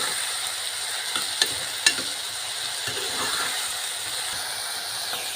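Onions and tomatoes cook down with salt in a pan, giving a steady soft sizzle and hiss. A couple of sharp clicks from the stirring spoon stand out early on, and no one speaks.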